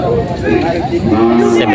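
Cattle moo at a busy livestock auction market in Lucena, Quezon, where cattle and carabao are traded; lowing calls come through amid loud crowd chatter and bidding voices.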